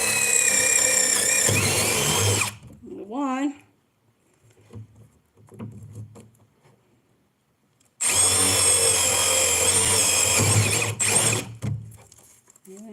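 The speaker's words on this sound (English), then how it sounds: "So I'm going to drill" A power drill bores drain holes into a worm bin in two loud, whining bursts, with a quiet pause between them that holds faint handling noises.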